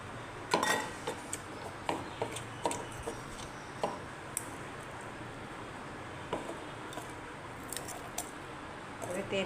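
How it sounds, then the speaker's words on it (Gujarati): Powdered sugar being mixed into flour in a bowl for sweet shakar para dough, with irregular light clinks and scrapes of a utensil against the bowl, moderately close, under faint background noise. "હવે આપણે એની અંદર 1 કપ જેટલી દળેલી ખાંડ છે એ મિક્સ કરીશું।"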